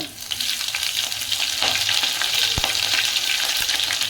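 Curry leaves and chopped green chilies sizzle in hot oil, a steady dense crackle with a few sharp pops and faint stirring, close and fairly loud, with no talking.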